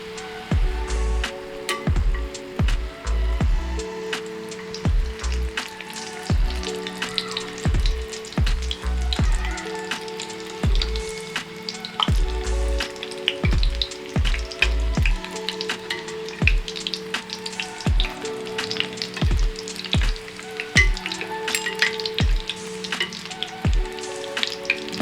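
Kerala-style beef cutlets fry over a slow flame in a steady, close sizzle of hot oil, with regular low thumps and bubbling crackles running the whole time.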